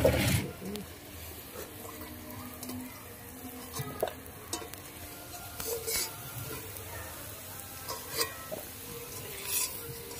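Potato pieces sizzle in hot oil while being stirred and lifted out in a home kitchen, a steady crackling fry broken by scraping utensil strokes against the pan throughout.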